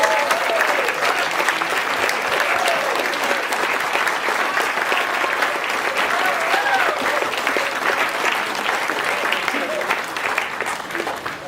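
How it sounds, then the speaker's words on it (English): A large audience at an evening community event claps steadily for the whole stretch, a dense, loud wash of applause with a few whoops and voices mixed in. "We shouldn't hold off on that applause, should we?"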